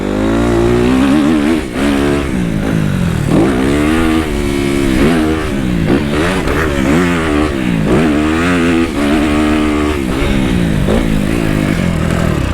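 A 2010 Honda CRF dirt bike races around a motocross track, its engine loud and close as it revs up and down through repeated throttle surges and gear changes, with no voices.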